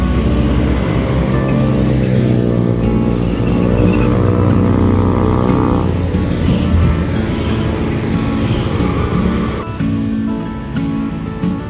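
A Dewi Sri bus pulls away from the RM Aroma Cirebon stop, its diesel engine droning loud and close with layered harmonic tones that rise as it accelerates, then ease off near the end.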